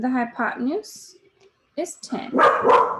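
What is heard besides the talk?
dog barking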